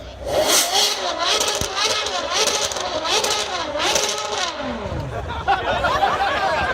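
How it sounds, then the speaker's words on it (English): A Ferrari GTO engine revs hard at an outdoor supercar parade at Wilton House, several rising and falling blips up toward a 10,000 rpm limiter, loud and near, with crowd chatter underneath. "give us some revs for the Ferrari GTO"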